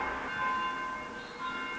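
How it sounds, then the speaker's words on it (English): Church bells ringing somewhere outside, a faint, sustained metallic tone with lingering resonance heard over a couple of seconds, distant and soft. "I wonder if there's someone up there ringing the bells"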